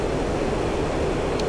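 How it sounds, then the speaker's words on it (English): Steady, even hiss of static from a radar warning receiver with no signal, in the cockpit of an A-4E flight simulator game, continuous and unbroken throughout. "Currently, the sound you hear is the normal noise of an absent signal."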